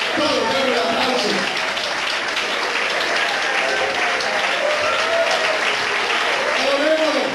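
Sustained, loud applause from a church congregation during a Spanish-language worship service, steady clapping filling the whole stretch with crowd noise and voices mixed in.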